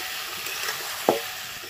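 Spices with chili powder and ground cumin fry in a pan, giving a steady close sizzle with a brief sharp scrape of stirring near the end.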